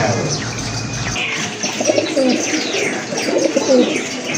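A pair of large yellow magpie pigeons coo softly and repeatedly up close, short throaty calls over a faint background hiss with no talk.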